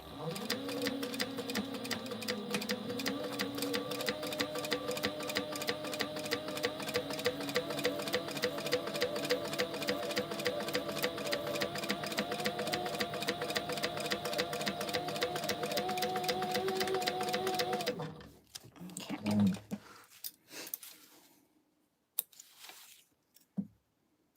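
A sewing machine runs in a long steady burst, stitching and backstitching a fabric pouch, with rapid even needle clatter for about eighteen seconds before stopping, followed by a few faint handling sounds.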